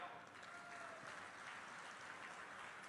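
A large crowd at a political rally in Gwalior claps continuously, a faint, distant patter of many hands running evenly throughout.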